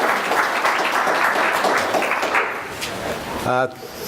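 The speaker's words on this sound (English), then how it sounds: "an applause to Dr. Pereira for getting involved in our program" Audience applause at a 2016 CSRC ACSESS Forum, a crowd clapping steadily for a few seconds before fading out, followed by a brief sharp tonal sound.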